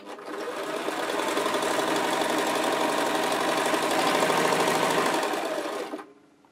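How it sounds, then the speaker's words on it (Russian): Sewing machine stitching a straight seam during a thread and skipped-stitch test, running steadily with a fast, even mechanical rattle for about six seconds before stopping abruptly. "Теперь прострочим прямую строчку."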